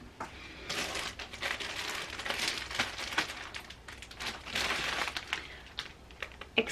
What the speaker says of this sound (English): I'm gonna have to put tissue paper around the buttons and protect this a little better